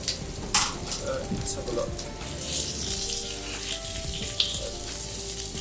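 Tomatoes and spinach fry in a pan for a quick scrambled-egg dish, giving a steady soft sizzle with a few utensil clinks and scrapes; a voice speaks briefly over it.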